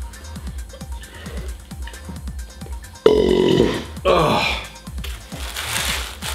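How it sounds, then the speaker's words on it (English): Loud burp from a person after drinking a carbonated soda during a giant takeout pizza eating challenge, a rough belch rising around the middle and trailing off, with talk before and after. "oh, it just causes the burps"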